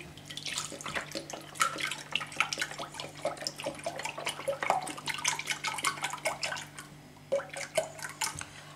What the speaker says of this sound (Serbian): Jedan deo mleka sipat ću u posudu